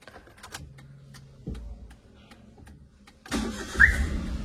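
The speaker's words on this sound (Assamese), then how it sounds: "ইঞ্জিনৰ চাউণ্ডটো ক'বই নালাগে" A used Maruti Alto 800 car engine idles with a steady low hum and faint ticking, then a louder rushing burst swells near the end, with no one speaking.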